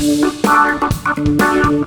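Compressed drum kit with kick, snare and cymbals playing a short groove, punchy thumping hits and crisp snare strikes with a bright cymbal wash, sounding tight and loud with no talking.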